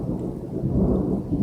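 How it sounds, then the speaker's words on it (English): Low, rolling thunder rumbles steadily through a thunderstorm, a deep continuous roar that swells slightly midway, loud and close, with no voices. "Up here comes the thunder."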